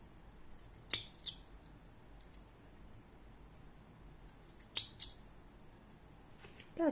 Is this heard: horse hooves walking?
no